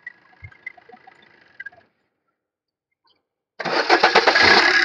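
Diesel engine of a 2013 Maruti Swift Dzire VDI with 96,000 km is switched off, then cranked again and catches at once with a loud, steady idle after a brief pause.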